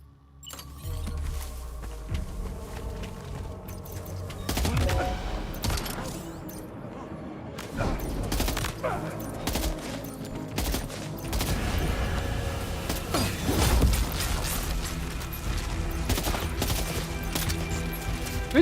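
Rapid bursts of machine pistol fire from the video game Death Stranding 2, repeated volleys close and loud over a dense, busy game soundscape with booms and clatter.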